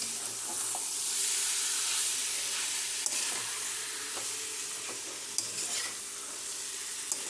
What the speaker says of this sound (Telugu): ఒకసారి కలిపేసుకుందాము.